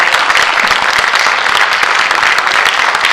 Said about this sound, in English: Let's all applause for everybody, please.